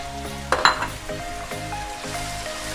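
Chopped tomatoes, three medium ones, hit a hot pan of mutton biryani base with a brief burst of sizzling and clinking of utensils at first, then a steady frying hiss continues close by with no talking.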